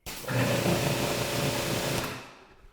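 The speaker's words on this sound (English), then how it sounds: "let's take a look at the sound of that induction motor" A pressure washer's induction motor runs with a steady, dense mechanical whir and hum for a couple of seconds, then winds down and fades out.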